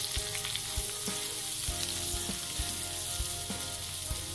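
Onions sizzling steadily in a pan for a Sambalpuri mutton and potato curry, a constant dense frying hiss with occasional soft knocks of a spoon, fairly close and alone.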